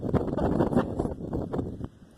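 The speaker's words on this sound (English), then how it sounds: "Sorry about the wind too," Outdoor wind buffets a microphone during a fog light install on a 1998 Volkswagen Golf, a continuous low rumbling roar that swells and dips over a couple of seconds with no talking.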